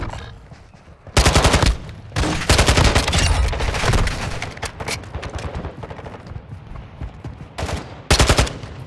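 Machine gun fire in the video game Call of Duty: Modern Warfare II, loud sustained bursts of rapid automatic shots that run almost continuously, dense and close, with a final short burst near the end.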